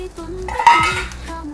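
A pot of soup with cartilage and shiitake mushrooms is stirred, giving a short clatter of utensil against metal with some sloshing, close and fairly loud.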